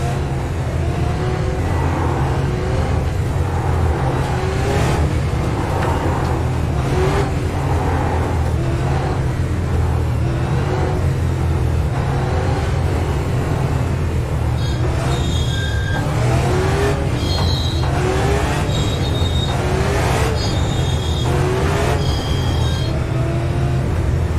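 Super late model race car engines drone loudly and continuously behind a pace car, rising and falling as cars pass, with a dense, close roar throughout.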